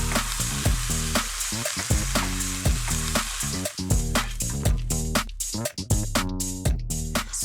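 Beef browning in batches in a hot pan, a loud continuous sizzle and crackle with spattering pops throughout, no talking over it.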